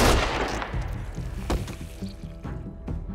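Gunfire in The Walking Dead: A New Frontier video game, an opening burst followed by a few sharp separate shots spaced across the moment, fairly loud and close.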